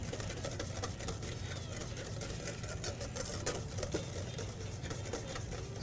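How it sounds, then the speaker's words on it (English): Whisk beating egg yolks until frothy, a rapid continuous tapping and rattling against the bowl, steady and fairly faint. "So it takes a lot of whisking."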